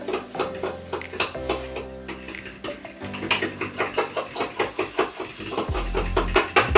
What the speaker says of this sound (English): pour your lemon juice in to that sugar and stir